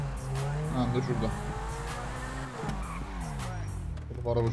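Car driving in Grand Theft Auto V, engine revving up and down with shifting pitch and tire squeal, fairly loud and close, with someone talking over it.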